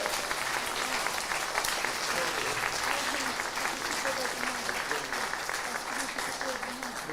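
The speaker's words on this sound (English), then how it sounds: "A round of applause again" An audience at the Learning Disabilities and Autism Leaders' Awards 2025 applauds steadily. The sustained, fairly loud clapping carries faint crowd murmur and voices beneath it.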